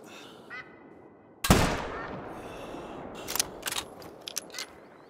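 Rifle fire while hunting warthogs in theHunter: Call of the Wild, at dusk: one loud sharp shot with a decaying tail, followed by a few quieter clicks and knocks, likely reloading, plus faint sounds early on.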